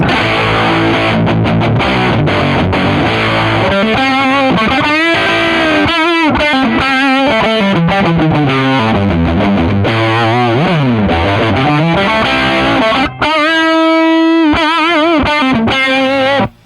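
A heavily distorted, fuzzy electric guitar plays through a DIY amp built from pedals, all frequencies at max, sustained notes and bends with a buzzy, saturated tone, loud and continuous.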